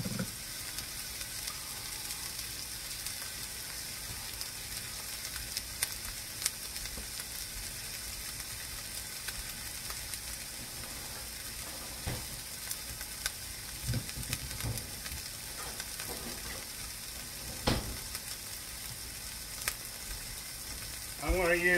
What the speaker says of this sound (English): I'm getting ready to put my onions in there.